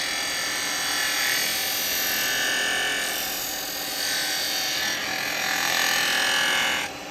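Carbide chisel cutting beads into a spindle on a wood lathe, giving a steady, loud scraping hiss over the motor's hum that runs the whole time and swells slightly toward the end before easing off.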